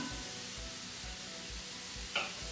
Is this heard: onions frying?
yes